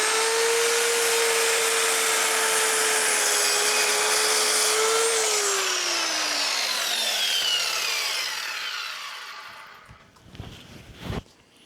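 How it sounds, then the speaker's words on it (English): A power saw whines steadily up close while cutting a wooden bench leg to level it, its pitch dropping as it spins down, followed by a few knocks and clunks of handling. "let's run the saw over that"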